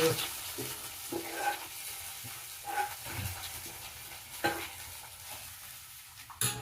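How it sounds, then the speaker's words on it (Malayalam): Curry leaf tempering in coconut oil is poured into a dish and hisses and sizzles up close, with stirring scrapes and a few clinks over a steady fry. "കരിവേപ്പില ഇട്ടുകൊടുത്ത് നമുക്ക് ഇതിലേക്ക് ഒഴിച്ചു കൊടുക്കട്ടാ"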